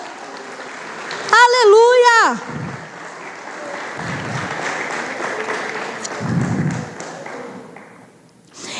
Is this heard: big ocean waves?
no